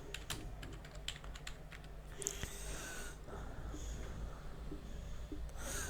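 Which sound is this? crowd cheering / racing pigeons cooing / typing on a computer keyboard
typing on a computer keyboard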